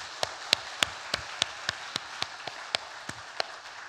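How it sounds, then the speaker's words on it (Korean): Church congregation clapping for the instrumental ensemble during a worship service, heard as a quiet, sparse run of distinct individual claps at an uneven, slow pace rather than a full ovation. "우리 합주단을 위해서도 한 번 더 격려의 박수를 보냈습니다."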